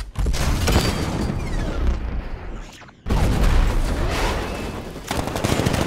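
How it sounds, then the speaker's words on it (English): A tank's 60mm cannon firing in Batman: Arkham Knight, loud heavy blasts and mechanical clatter in two bursts separated by a brief dip, with no talk over them. ".60mm cannon operational."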